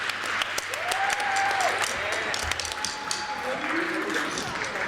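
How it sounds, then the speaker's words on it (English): Audience applause at a junior high school concert, steady clapping from a crowd filling the whole stretch, with a few faint whoops over it. "Let's give them one more round of applause."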